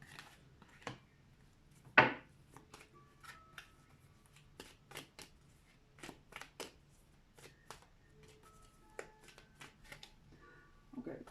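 A deck of tarot cards is shuffled and drawn, giving soft papery riffles, slaps and light taps scattered irregularly across a quiet room, with one sharper snap near the start.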